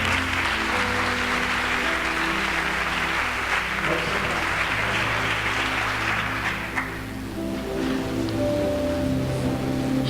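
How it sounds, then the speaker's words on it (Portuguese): Large audience of young people at a church conference clapping hard, a thick sustained burst of applause over sustained musical chords, thinning slightly toward the end. "Então dê um aplauso bem forte à palavra."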